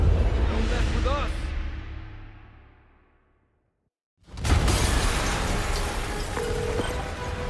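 A loud explosion in Marvel's Spider-Man, a broad crackling burst that decays into near silence, then another heavy blast of roaring debris and rumble.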